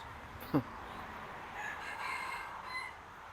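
A rooster crowing at a distance, a faint drawn-out call rising and falling over a steady outdoor background hum, preceded by a brief sharp knock.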